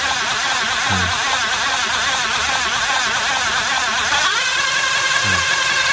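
A Honda Vario scooter engine runs after an electric start, giving a steady, close mechanical hum and buzz with faint low thumps, and no talk.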